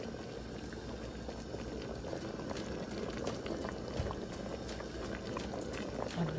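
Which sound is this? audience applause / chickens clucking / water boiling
water boiling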